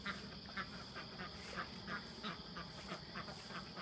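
Ducks quacking at around 7:30 on a Sunday morning, with guinea fowl nearby: a steady run of short, moderately loud quacks repeating every half second or so over a constant high-pitched background hum.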